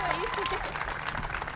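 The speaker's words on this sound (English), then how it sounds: "Round of applause for Jazz Shelley" Crowd at a Cornhusker State Games opening ceremony in Nebraska applauding, a steady wash of many hands and cheers under an announcer's voice.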